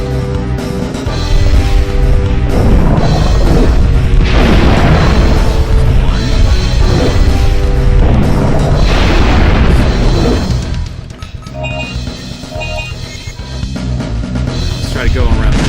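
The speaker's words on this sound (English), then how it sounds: "I'm gonna try to use at least one rocket on them each." Rocket blasts in the survival horror game Dino Crisis 2 boom heavily again and again against two dinosaurs, loud low explosions layered over game music and a player's voice, easing off near the end.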